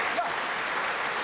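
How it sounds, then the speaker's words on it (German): A studio audience at a televised variety show applauds in a dense, steady patter of hands, fairly faint and even throughout its brief length. "Ein Applaus für ihn."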